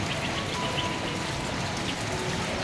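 Steady rain falls over a rural homestead in Surin, Thailand, a dense even hiss of drops with no pauses, fairly close and continuous throughout, no voices.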